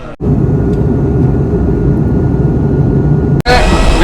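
A passenger airplane on a flight into Vietnam comes down to land, filling the cabin with a loud, steady engine and airflow roar that is cut off by two brief dropouts.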